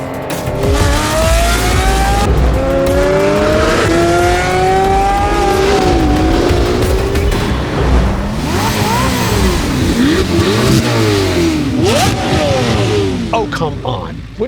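Corvette ZR1 and other 1,000-horsepower supercars, a Ferrari and a Lamborghini, accelerate hard in a drag race, engines rising through repeated gear shifts, loud and continuous, with brief tire squeal and voices mixed in.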